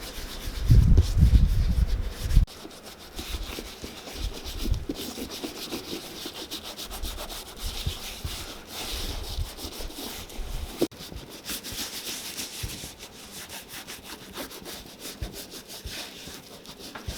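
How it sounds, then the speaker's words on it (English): Oiled leather cream rubbed by hand into Red Wing Classic Moc leather boots, heavy scrubbing at first, then softer repeated strokes and brushing continuing at close range with no one speaking. "let's put some oiled leather cream back into these"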